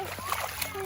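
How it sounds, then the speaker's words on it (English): Children splash and play in shallow mountain runoff water after heavy rain, with close watery splashes and sloshing mixed with kids' voices and a background hum. "The kiddos are playing in the mountain runoff water that happens whenever it rains a lot at the land."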